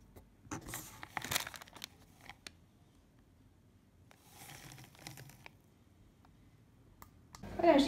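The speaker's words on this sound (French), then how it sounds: "Je vous retrouve pour déballer un petit colis que je viens de recevoir ce matin" A small parcel of limited-edition Christmas candles is unwrapped, giving bursts of crinkling and tearing packaging at close range, with quiet gaps between the bursts and a louder rustle at the end.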